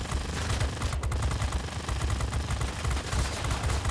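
Machine guns of a P-51A Mustang fighter plane in World of Warplanes, a World War II air combat game: continuous rapid gunfire rattling steadily at high volume over a dense roar throughout.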